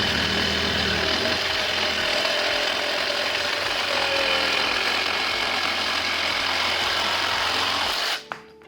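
A Black and Decker power saw from a 4-tool combo kit cuts steadily, its motor whining loud and continuous for about eight seconds before abruptly stopping.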